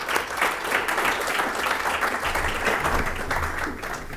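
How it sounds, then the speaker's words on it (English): Audience applause for a panel after a climate change discussion, steady dense clapping from a crowd filling the whole stretch without a break. "If everyone can please give them a round of applause."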